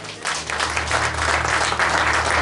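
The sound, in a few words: congregation applauding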